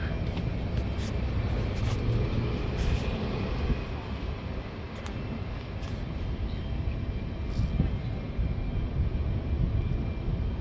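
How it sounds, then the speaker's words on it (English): An American Airlines Airbus A321neo rumbles past at an airport, a steady low broadband jet roar of moderate loudness that holds across the whole stretch, with faint clicks and background noise. "American Airlines. Airbus A321neo."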